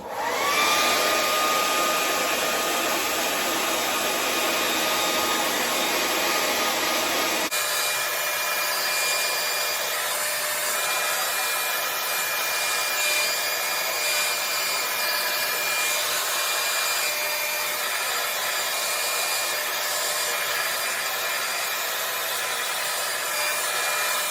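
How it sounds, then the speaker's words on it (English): A hair dryer blows continuously and loudly up close while stretched sections of type 4 hair are dried, its airflow roar shifting in tone as it moves, with no talking. "I like pull it out and then I blow dry it"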